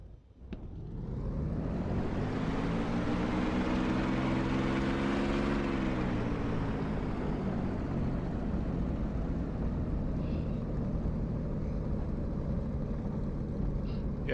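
A TF-51D propeller fighter in the DCS World flight game throttles up for takeoff, a loud, steady engine drone with a rising then settling pitch that holds continuously near and alone.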